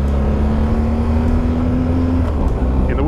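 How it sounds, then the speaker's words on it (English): Engine braking on a BMW R1250GSA motorcycle: a steady engine drone with a falling whine, close and loud amid road and wind rush. "I love a good bit of engine braking."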